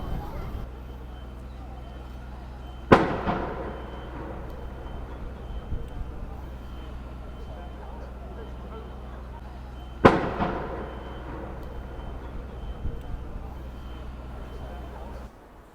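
The time gun fires at Edinburgh Castle with two sharp, loud bangs about seven seconds apart, each trailing off into a short echo over the steady murmur of an outdoor crowd of tourists.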